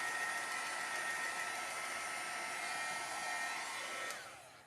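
A heat tool blows a steady, loud whooshing rush while drying Inktense ink on a holiday tag, running continuously and then dropping off as it is switched off.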